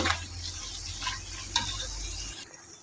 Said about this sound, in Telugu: అయితే జీడిపప్పులు కొద్దిగా వేగిన తర్వాత అప్పుడు ఉల్లిపాయలు వేసుకోవాలి ఇవన్నీ కలిపి బాగా కలుపుకోవాలి